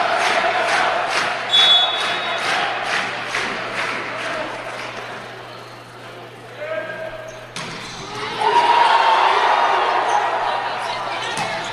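Crowd at a men's college volleyball match between Master's and Hawaii roars and cheers after a spike, rising loudly over the arena with a commentator talking throughout and a ball thud earlier.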